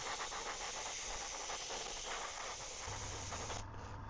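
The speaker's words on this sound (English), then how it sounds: "I cleaned my airbrush very thoroughly today before I started the airbrushing process, and it just sprays a lot better." Airbrush spraying white base paint onto a 3D-printed brook trout swimbait lure, a steady close hiss held continuously throughout with no pauses.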